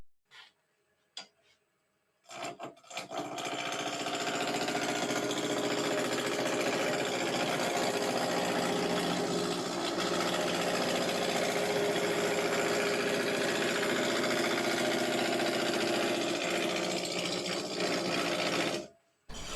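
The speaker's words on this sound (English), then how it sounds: "The large spindle roughing gouge removes a lot of wood quickly." A wood lathe spins a baluster while a large spindle roughing gouge cuts it, giving a steady, loud, continuous whirring and rasping drone for about sixteen seconds, starting after a few brief knocks and stopping abruptly near the end.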